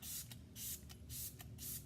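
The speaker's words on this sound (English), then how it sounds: "So I'm first just going to spray some of this Smashbox primer water." Four short hissing bursts of Smashbox primer water sprayed from a pump mist bottle during a makeup routine, each puff close and crisp with brief pauses between them.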